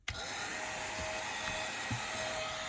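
A hairdryer fan whirs steadily with a thin high-pitched motor whine, starting with a click and running evenly at a low speed.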